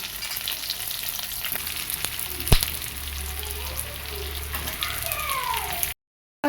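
Cubed onions fry in a hot pan with a continuous loud sizzle, stirred now and then, with one sharp knock partway through before a sudden cut.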